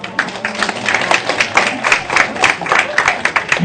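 A university class in a lecture room bursts into loud, brisk applause, many hands clapping together in a dense, steady patter that runs throughout.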